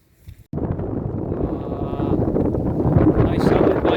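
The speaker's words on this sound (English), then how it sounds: "It's very, very windy and rainy" Strong, blustery wind buffets the microphone outdoors at a rainy metal detecting dig in the UK, a loud steady rumble that starts abruptly after a brief quieter moment and keeps roaring without letting up.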